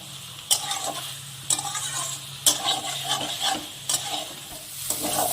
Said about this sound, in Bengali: আমি পোস্তটাকে বেশ কিছুক্ষণ একটু কষিয়ে নেব ঝিঙে আলুর সাথে।